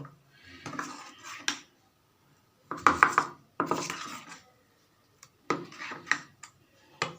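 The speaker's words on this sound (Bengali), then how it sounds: "এটাকে ভালো করে মিক্সড করে নেব" Khirer patishapta batter being mixed with a pinch of salt in a bowl, giving bursts of scraping and clinking of a utensil against the bowl, separated by short pauses, close and fairly quiet.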